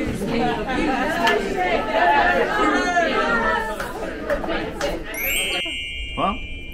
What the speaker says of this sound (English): What makes it funny is that everyone sings along to the channel they're listening to